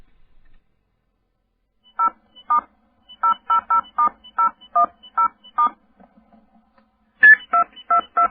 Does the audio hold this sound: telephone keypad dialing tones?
yes